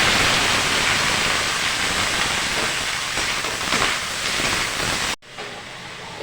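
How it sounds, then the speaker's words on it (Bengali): Bottle gourd peel fries in hot oil with a dense, steady hiss, close and loud, ending abruptly after about five seconds. "লাউয়ের খোসাটা তেলের মধ্যে দিতেই নরম হয়ে এলো।"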